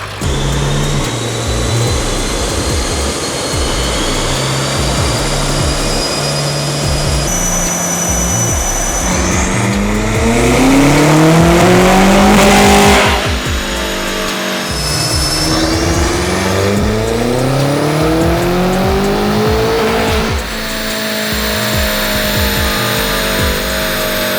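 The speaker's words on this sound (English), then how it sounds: "Now this is how an F90 M5 should be running." A rebuilt, roughly 1000 hp BMW F90 M5 engine roars loudly and revs repeatedly, pitch sweeping up and down through hard pulls, with a turbo whine rising over the heavy exhaust note.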